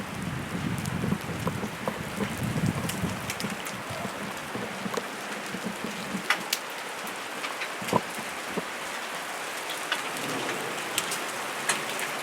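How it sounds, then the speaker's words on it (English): Heavy rain pours steadily during a rain and hail storm, a dense continuous wash with scattered sharper drops and impacts standing out, no voices. "It's starting to rain really hard again."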